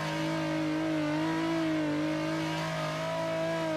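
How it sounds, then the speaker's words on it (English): A simulated car engine revs hard and holds a steady, wavering drone during a no-handbrake clutch-kick drift on Happogahara in a racing game, loud and continuous with no talk. "Clutch kick, left foot brake."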